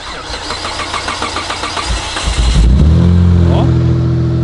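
A Mitsubishi Galant V6 turns over with a rhythmic starter churn, then catches and settles into a steady, loud idle; voices are faintly present.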